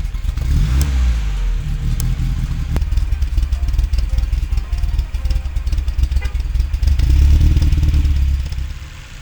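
A car engine runs after its idle and air-fuel ratio are adjusted. A loud, close, steady rumble carries a rattly texture and a brief rise in revs near the end, with no talking.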